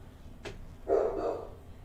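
A pet dog named Rocky gives one muffled bark indoors, close but fairly soft, after a faint click, with a low hum underneath.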